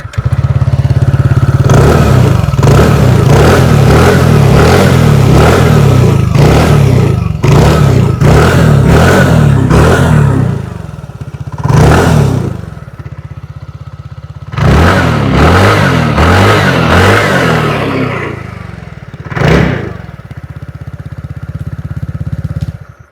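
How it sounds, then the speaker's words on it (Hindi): A 2026 TVS Ntorq 150 scooter revs loudly up close in a series of sharp throttle blips, then longer pulls with pauses between, its exhaust note rising and falling against a steady idle. "आइए अब सुन लेते हैं इस स्कूटर की एग्जॉस्ट नोट।"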